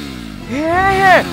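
A voice imitates a motorcycle engine starting and revving: one rising, buzzing drone that climbs in pitch, swells loudly for about a second and then cuts off.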